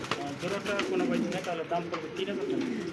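Large Lahori pigeons cooing at a bird market, soft repeated coos close by, mixed with a busy crowd murmur and nearby voices talking.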